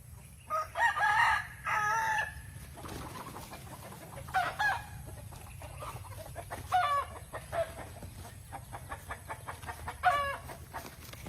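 Farmyard chickens cluck and squawk in short bursts while a rooster lets out several crowing calls, fairly faint and at a moderate distance, over a low background hum.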